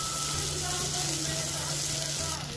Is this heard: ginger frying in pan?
yes